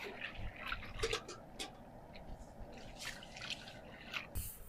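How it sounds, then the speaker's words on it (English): A slaughtered home-raised chicken is dunked in hot water before plucking, giving off sloshing, splashing and dripping sounds in soft irregular bursts, with faint talking around it. "So we're just dunking it in hot water until the tail and wing feathers can come off easily."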